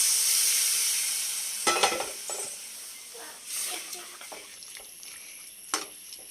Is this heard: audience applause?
no